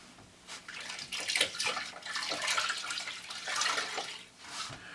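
A wet skein of soft-spun Briggs & Little yarn is lowered into a dye bath of white spruce and snow water, making close splashing and sloshing swirls that rise and fall for several seconds.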